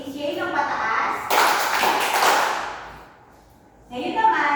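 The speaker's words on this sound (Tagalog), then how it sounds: "Bigyan nyo nga ng palakpak si Shay ng pataas." A class of children gives a burst of clapping for a student, dense and close for a couple of seconds before fading, with a voice heard before and after.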